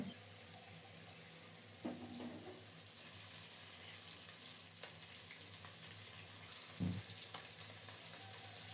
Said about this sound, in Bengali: মিনি মাছগুলো লবণ হলুদ সামান্য গুঁড়ো মরিচ মাখিয়ে গরম তেলে ছেড়ে দিচ্ছি।